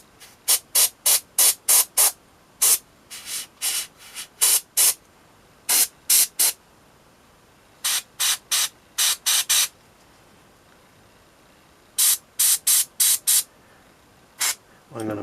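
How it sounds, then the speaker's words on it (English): Airbrush spraying imperial blue paint onto the plasma coils of a Blood Angels Death Company Jump Intercessor miniature, short close hissing bursts in quick groups separated by pauses, with no talk. "Just going to try and spray this straight onto the plasma coils."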